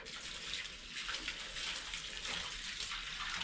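Water mixed with plant feed splashes onto tomato plants during watering, a steady, close rushing patter that runs without a break for a few seconds.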